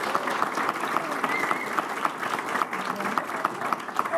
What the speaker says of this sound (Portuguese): recebam com uma salva de palmas Marcelino Freire